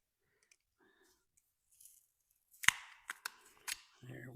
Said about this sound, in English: let us get the filtration cut off